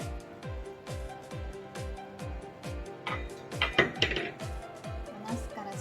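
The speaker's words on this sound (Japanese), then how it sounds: "蓋を開けてみましょう。" A lid lifted off a waterless pot of miso-simmered eggplant gives a bright metallic clink and scrape midway, over a steady rhythm of low knocking thuds from the pot as it sizzles.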